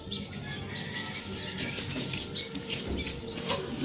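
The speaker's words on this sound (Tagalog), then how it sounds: "Ay, yan lahat na kalpate." Pigeons beat their wings in a close, busy flurry of repeated flaps over a steady background, with faint chirps mixed in and no talking.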